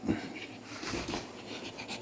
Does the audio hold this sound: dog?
yes